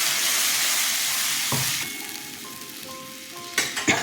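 Bele fish in mustard-paste curry sizzling steadily in a pan, a loud continuous frying hiss with a few clinks and stirring knocks near the end.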